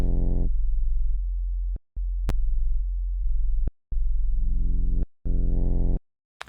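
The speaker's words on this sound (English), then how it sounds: "aux just adds another sub sine wave below this current octave" A synthesizer in Ableton's Meld plays sustained low notes with a deep sine-like sub tone an octave below, cutting off abruptly between phrases, with a few brief clicks.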